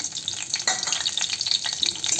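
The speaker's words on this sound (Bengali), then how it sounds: "এখন গরম তেলে যে গোটা গরম মশলা জিরে শুকনো লঙ্কা তেজপাতা দিয়ে দিলাম" Hot oil sizzles loudly and continuously up close as whole spices, cumin, dried chillies and bay leaves fry, a bright crackling hiss with a brief stirring clatter partway through.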